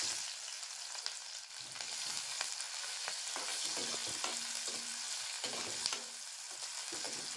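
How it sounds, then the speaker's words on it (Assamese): Two large chopped onions frying in plenty of oil in a pan with whole cumin, giving a steady, close sizzle with occasional stirring clicks and scrapes, and no talk. "এতিয়া মই ডাঙৰ সাইজৰ দুটা পিয়াজ কাটি লৈছো আৰু সেইখিনি ইয়াতে দি দিম"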